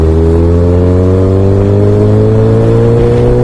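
A motorcycle engine revs steadily, its pitch climbing smoothly and continuously as the throttle opens, loud and close with no voices.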